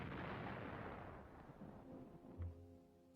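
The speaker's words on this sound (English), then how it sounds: "After a heavy artillery bombardment" Heavy artillery bombardment in wartime France: a dense, rumbling blast that swells and slowly decays, followed by a lower thud and fading noise, with no voices.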